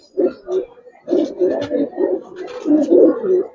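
Giribaz pigeons at a loft coo close by in repeated, rolling bursts, several overlapping calls following each other in quick succession.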